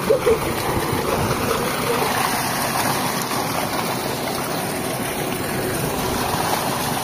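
Water rushes steadily from a solar-powered farm pump in Nueva Ecija, a broad continuous gushing that fills the whole stretch without pause and with no voices on top.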